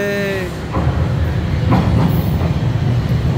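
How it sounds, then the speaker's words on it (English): A Toronto subway train pulls into a station in a loud, close rush of rumbling and rattling wheels that builds and holds. A brief whistle-like tone is heard near the start. "this one is coming, and this is our train"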